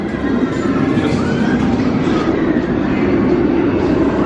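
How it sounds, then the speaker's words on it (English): The Nemesis Reborn roller coaster train at Alton Towers roars past on its track, a loud, steady, dense rumble that holds throughout without a break. "Trying to track the train right there."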